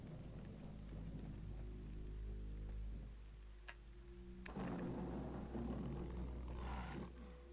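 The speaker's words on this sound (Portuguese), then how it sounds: "Eita, tá chovendo bastante aqui" Heavy rain hisses steadily in Nightmare Creatures 2, blended with deep rumbling game ambience and a roar-like swell, then thickening into a denser downpour near the end.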